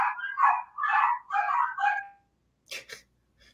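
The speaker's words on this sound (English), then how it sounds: "Boy, those doggies." Dogs bark in a rapid run of five or six sharp, nearby barks, then silence and two faint distant yips.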